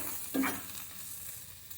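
Egg and fenugreek leaf curry cooking in a pan, a soft low sizzle with a brief scrape of stirring near the start, otherwise quiet and steady.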